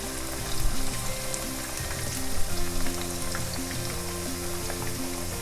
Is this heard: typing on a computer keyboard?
no